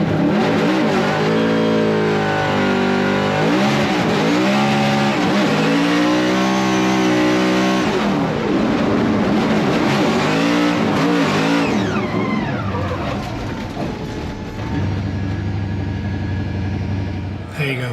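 An RTR Ford Mustang drift car on a Formula Drift track revs hard in rising and falling sweeps, its engine close and loud as people talk over it.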